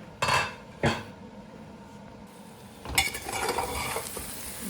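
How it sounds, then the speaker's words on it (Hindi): Mutton sizzles and fries in a pan while a utensil scrapes and stirs it, sharp metallic clanks punctuating a steady close frying hiss at a home family gathering. "ये देखिए मटन भुन रहा है"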